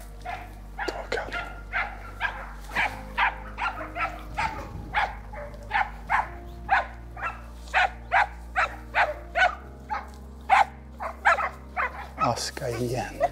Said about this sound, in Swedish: Nu är hundarna jävligt nära.